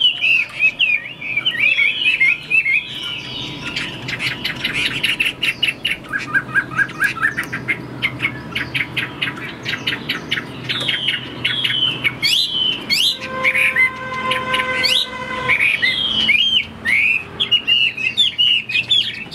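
A caged Chinese hwamei songbird sings a long, loud, varied song of rapid chirps, trills and clear sustained whistles, close by and alone.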